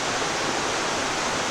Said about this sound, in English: The waterfall back there.